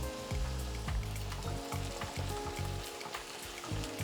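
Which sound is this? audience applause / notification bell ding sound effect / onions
onions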